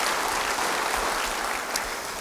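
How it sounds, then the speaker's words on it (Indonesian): A church congregation gives steady applause during a sermon, an even wash of clapping at moderate level, with no voices over it. "beri tepuk tangan bagi dia."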